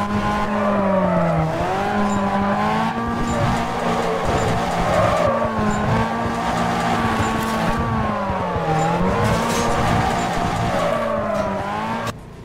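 A car drifts in Need for Speed Carbon, its engine droning loudly and steadily with pitch swooping up and down throughout, tires squealing as it slides, continuous and close.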